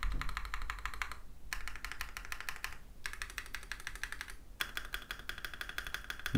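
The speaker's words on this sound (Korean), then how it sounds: "그냥 평범한 기계식 키보드의 소리가 난다" Bursts of fast typing on an EPOMAKER TIDE 75 mechanical keyboard clatter up close, three runs of dense, even keystrokes separated by brief pauses, with no voices present.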